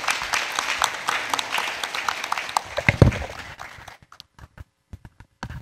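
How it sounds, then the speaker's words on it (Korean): An audience at an open government public-private international forum claps together, a dense burst of applause that thins out into scattered, fading claps before falling quiet. "박수를 한번 부탁드리겠습니다."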